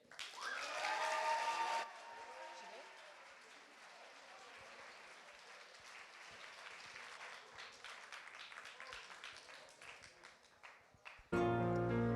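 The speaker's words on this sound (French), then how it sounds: "Je vous demande d'applaudir très fort Abigail" An audience at a youth talent showcase evening bursts into loud, sustained applause for a young singer, steady clapping and some cheers filling the hall for around ten seconds before it tapers off and music starts.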